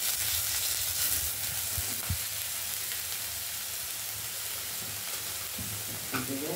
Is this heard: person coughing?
no